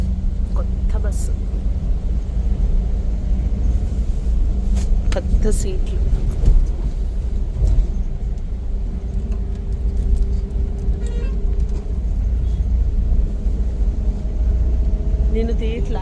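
Inside a new bus travelling on a pilgrimage trip to Arunachalam, a steady low engine and road rumble runs throughout. Passengers talk over it, and faint rattles and clicks come and go.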